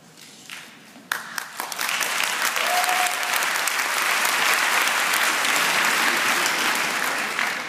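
Audience applause at a Strasbourg kick-off gathering; after a short lead-in with a few early claps, full clapping swells and holds steady and loud to the end.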